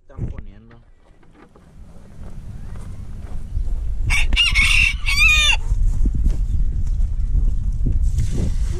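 A red rooster crows loudly twice in quick succession amid his two red hens clucking, over a low background rumble and some faint talking.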